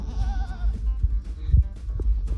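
Goats bleat on a farm where pregnant does are kept, a few close wavering calls in the first moments followed by scattered animal noises and rustling at moderate loudness.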